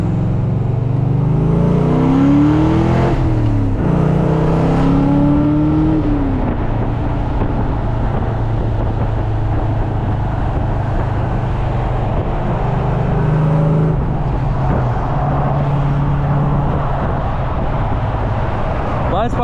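A supercharged, Pro-charged 1999 Ford Mustang GT with a manual gearbox pulls hard from inside the cabin, its loud engine rising in pitch through sweeping climbs, dipping at shifts, then winding up again, with a person talking over it.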